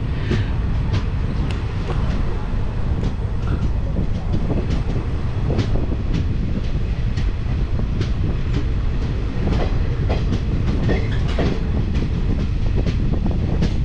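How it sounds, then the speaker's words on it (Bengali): A passenger train on the Puri–Kolkata route rolls out of Delang station, with a continuous heavy rumble, rhythmic wheel clatter on the rails and occasional squeaks heard from inside the moving coach. "এবার ডেলাং থেকে ছেড়ে দিল ট্রেন আমাদের"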